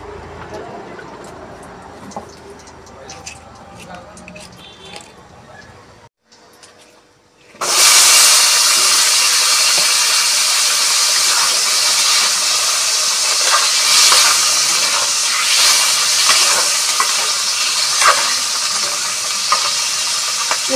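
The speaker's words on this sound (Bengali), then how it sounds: "এখন আমি তেল দিয়ে দেব, আলুগুলোকেও ভেজে নেব।" Potatoes frying in oil for a Bengali-style dry cauliflower curry, a loud steady sizzle that bursts in suddenly after a quiet stretch of faint kitchen clatter, then crackles continuously up close.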